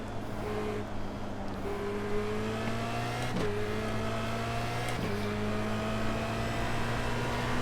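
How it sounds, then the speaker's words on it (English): Race car engine in iRacing at Imola, a steady high drone climbing in pitch as it accelerates, with two quick gear shifts breaking the rise, loud and continuous with no voices. "I haven't driven this car for a little while, and it's fun. It zips around the track."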